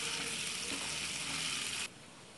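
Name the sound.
garlic frying in oil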